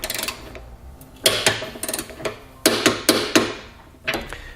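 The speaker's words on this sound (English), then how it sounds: "Now we're going to come back with a torque wrench, and we're going to torque all of our hardware down to the specified amount in the instructions." Torque wrench tightening trailer hitch hardware on a 2016 Chevrolet Equinox, a series of sharp ratcheting clicks in short bursts with brief pauses, close up and clear, with no talking.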